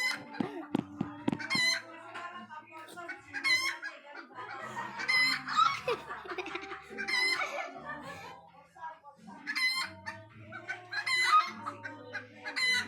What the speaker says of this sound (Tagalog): maingay yung mga manok niya